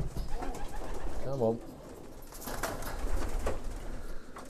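Pigeons coo in a loft, with one clear, rolling coo rising briefly amid rustling and background bird noise while someone speaks quietly nearby.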